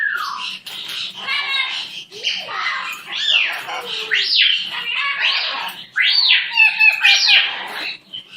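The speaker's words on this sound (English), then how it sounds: "You're such a good bird, aren't you?" A pet parrot named Buttons squawks and chirps in a busy run of rising and falling whistles and harsh calls, loud and close, continuing for several seconds.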